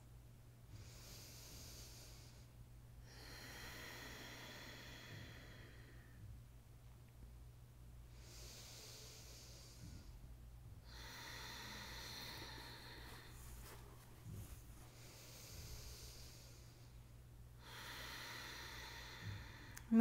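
Slow, deep breathing during a morning yoga stretch session: long airy inhales and exhales alternate in an even rhythm about every two and a half seconds, close and fairly soft over a low steady hum.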